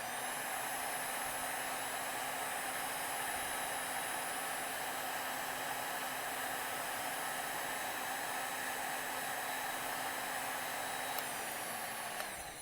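A heat gun runs on its high setting for heat shrinking, holding a loud, steady hiss of blowing air with a constant hum and a slight shift near the end.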